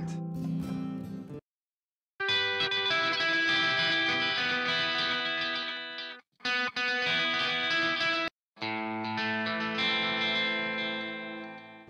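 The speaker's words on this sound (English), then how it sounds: "By doing a quarter note into a dotted eighth, I get this galloping effect." Distorted electric guitar chords ring out with a quarter-note into dotted-eighth delay, repeats falling into a galloping pattern, broken by brief silences between phrases.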